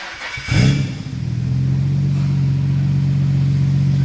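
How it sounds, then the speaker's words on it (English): Nissan R32 Skyline GT-R engine cranking and catching on a freshly fitted exhaust, a brief starter burst followed by a steady, loud, droning idle that holds alone to the end. "First crank, the new exhaust."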